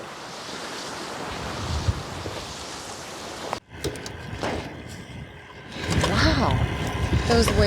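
Ocean waves wash around an island barge in steady broadband surf noise with wind buffeting the microphone, building louder toward the end as the water surges.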